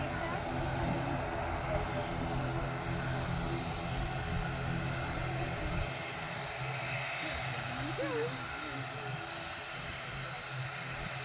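A small airplane flies overhead and banks into a turn, its engine drone steady and fairly distant across the whole stretch, with people talking faintly underneath.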